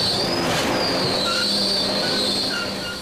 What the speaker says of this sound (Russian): пришлось остановить процесс, который называется скреперование. Такой особый скребок на мощных тросах.